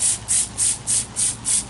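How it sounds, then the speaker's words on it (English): Cleaning product sprayed onto grass-caked equipment in six even, forceful hissing bursts about a fifth of a second apart, close and loud, with no talking. "I think I'm going to spray this thing down."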